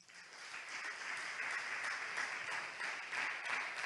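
A church congregation applauds in a sustained, fairly faint wash of many hands clapping, steady for about four seconds with no voices standing out.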